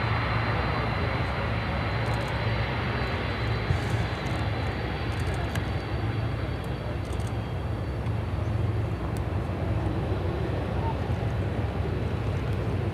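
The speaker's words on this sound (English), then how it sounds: "This is Atlas Air 8523 coming in from Anchorage" An Atlas Air cargo plane arrives from Anchorage at Chicago O'Hare, producing a steady, continuous broadband roar that holds at an even loudness throughout.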